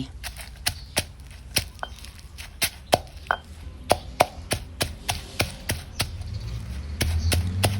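Chilies and salt pounded in a mortar with a pestle, a steady series of sharp, close thuds at a regular rhythm, with no talking over them.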